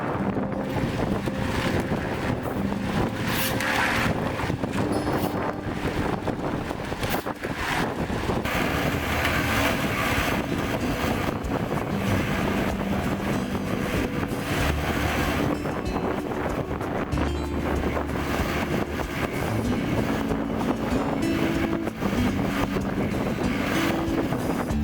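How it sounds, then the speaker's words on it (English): On a building site during concrete column pouring, a concrete mixer drum keeps spinning with a loud, continuous low rumble and churning, along with steady broadband noise and no voices. "Watching the concrete mixer spin steadily with its loud rumble"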